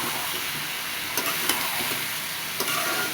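Meat frying with spices, ginger and garlic in a pan, a steady close sizzle with a few soft stirring clicks and scrapes.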